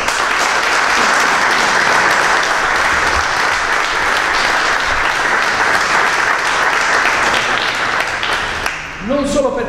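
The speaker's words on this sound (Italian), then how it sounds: "Luigi Samele, che avete conosciuto, che, a cui rivolgeremo un ulteriore applauso" Loud, sustained applause from an audience at a fencing club presentation, honoring fencer Luigi Samele; dense continuous clapping fills the room and fades near the end as a voice begins.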